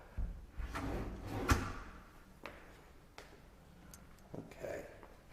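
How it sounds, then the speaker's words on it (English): Kitchen cabinet doors and drawers in a house open and shut one after another, a series of soft knocks, slides and thumps spaced a second or so apart, quiet and close with no talking. "If you look behind here, I'm opening some cabinets and stuff."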